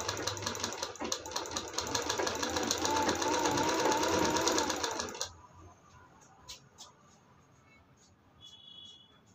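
A home sewing machine runs steadily while stitching a long-sleeve blouse belt, a loud rapid whirring clatter for about five seconds that then stops, leaving quiet room sounds with a few faint clicks.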